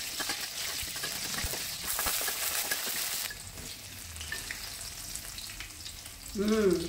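Dried chilies fry in oil on a home stove with a close sizzle and crackle. The sizzle eases partway through, and a brief voice-like sound comes at the end.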